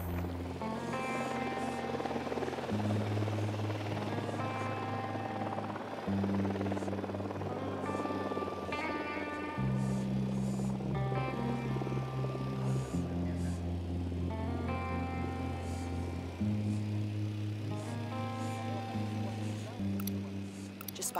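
A helicopter in the video game Ghost Recon Wildlands throbs steadily and loudly throughout, its rotor drone shifting pitch in stages as it flies, with no talk over it.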